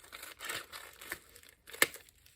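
Cardboard being cut for a homemade masterboard gives soft scraping and crinkling bursts close by, with a brief pause and then one sharp snap near the end, quiet overall.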